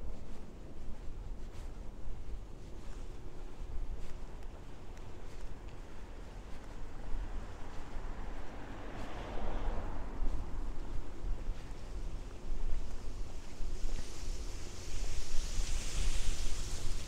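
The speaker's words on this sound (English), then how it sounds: "You can hear that wind whipping through that tree." Strong wind whipping through a tree on a Brooklyn street in Bensonhurst: a continuous rushing, roaring noise that swells in gusts, loud and steady with no talk.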